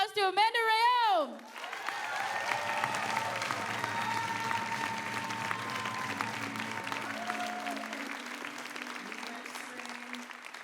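Audience at the 2023 Summer Solstice Indigenous Music Awards breaks into a sustained round of applause after a brief loud rising vocal whoop at the start, the clapping steady and full for the rest of the stretch.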